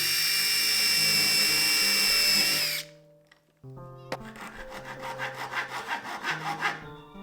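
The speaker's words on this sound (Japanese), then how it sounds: "このねノコギリね、なんかキレがねおかしいんですよね。" A dull-cutting hand saw rasps through plywood in a quick run of rhythmic back-and-forth strokes, close and loud, after a stretch of steady tonal background sound.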